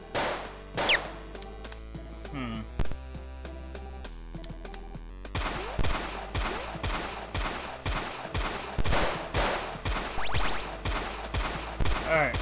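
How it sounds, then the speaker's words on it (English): A shotgun fires repeatedly in the game Fighter of Evil, sharp loud blasts at a steady, rapid rhythm over backing music, with a few scattered impacts before the volley. "What I'm using is a shotgun."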